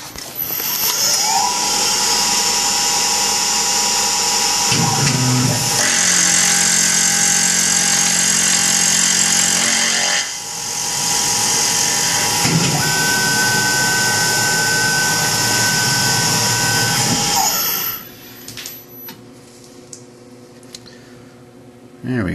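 A Tormach PCNC 1100 CNC mill makes a test cut, a loud steady high whine of the spindle and cutter running continuously for about seventeen seconds with slight shifts in pitch, then dropping away to quieter machine hum at the end.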